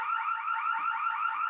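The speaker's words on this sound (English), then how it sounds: "That's our fire alarm or our something alarm." A building fire alarm sounds continuously, a loud electronic tone warbling in a steady rapid pulse, with faint background noise beneath.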